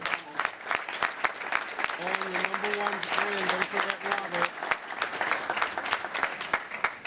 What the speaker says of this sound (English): So I think we could start by giving all of the basketball players from the 8th grade up a nice round of applause.